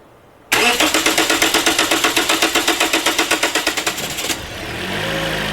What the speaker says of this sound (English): Go ahead and start the engine.